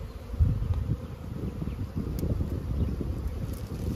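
Steady low buzzing of many bees at a hive during a formic acid treatment fills the clip, a continuous insect drone with faint wind rumble beneath it.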